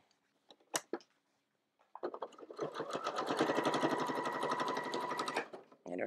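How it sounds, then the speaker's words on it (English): A sewing machine stitches a quilted hot pad placemat in one steady, loud run of about three and a half seconds, after a few faint clicks and taps of fabric handling. "It's kind of a tricky angle to sew at, but I'm doing what I can."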